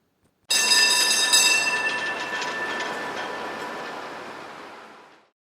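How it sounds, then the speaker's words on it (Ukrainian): A rail vehicle's bright metallic ring and rumble starts abruptly, holds steady, then fades out over a few seconds, heard alone. "Правильно, це трамвай."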